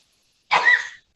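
A single sneeze in a court hearing held as an online meeting, one sharp close burst lasting about half a second, then silence.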